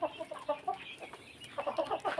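Breeder chickens on a farm cluck in short, close bursts, a run of choppy calls at the start, a brief lull, then another cluster of clucks near the end.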